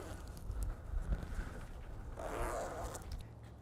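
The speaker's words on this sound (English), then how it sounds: "just zip everything back up and it'll be good as new" A zipper closes on a Bestop Trektop NX soft top of a Jeep JK Unlimited, a faint, quiet rasp of zipper teeth with soft scuffs and handling noise around it.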